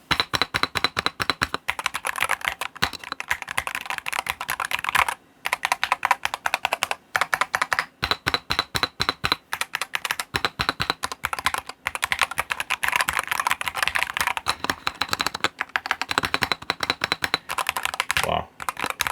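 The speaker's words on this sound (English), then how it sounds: "So first of all, let's do the sound test." Rapid typing on a Drunkdeer A75 Pro magnetic-switch gaming keyboard, a dense run of close, crisp keystrokes with a few brief pauses and some heavier spacebar thocks, heard alone without talk.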